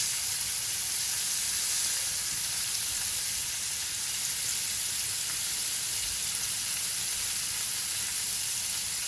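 Lamb chops sizzle steadily on a grill, a constant close broadband hiss with fine crackle running evenly throughout with no voices.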